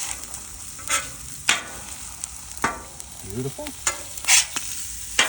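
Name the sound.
eggs frying on a Blackstone griddle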